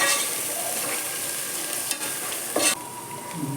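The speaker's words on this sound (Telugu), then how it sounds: "కొంచెం ఫ్రై చేద్దాం." Salt and turmeric fry in a pan for tomato rice while being stirred, a close, loud, continuous sizzle with a few scraping strokes of the spoon and no voices.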